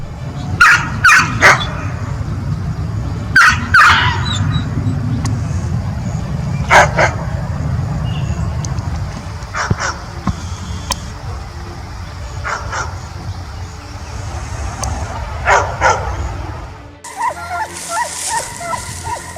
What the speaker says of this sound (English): Maremma immediately barks loudly, creating psychological pressure to make the predator leave.